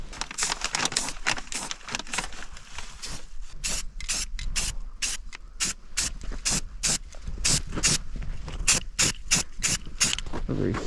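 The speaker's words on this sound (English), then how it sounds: "I'm just gonna take some rust reformer and spray over them." Rust reformer sprayed from an aerosol can over rust spots on a Jeep CJ7, heard as close, repeated hissing bursts, some short and some sustained, with rubbing and rattling handling noises in between.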